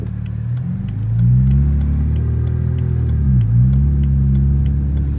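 A tuned BMW 335i twin-turbo engine with a coilover suspension conversion accelerates on a rear-wheel-drive test drive, a loud, close droning hum rising in pitch and dipping briefly at a gear change before climbing again.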